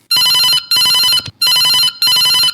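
A telephone rings in four loud, steady bursts with short gaps, signalling a listener calling in to the Kisanvani farm program on Akashvani Bilaspur radio; no voices are heard.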